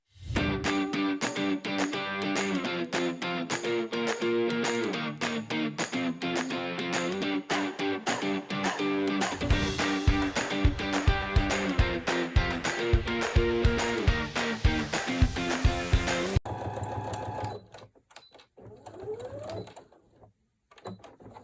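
Sewing machine stitching a row of a puff quilt, running in a fast, loud, close rhythmic chatter for most of the clip before stopping, followed by quieter fabric handling.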